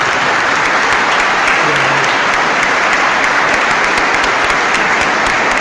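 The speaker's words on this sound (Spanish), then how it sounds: "Recibamos al hermano con un fuerte aplauso." A church congregation bursts into loud, dense applause that holds steady throughout, a thick wash of many hands clapping at close range with no pauses.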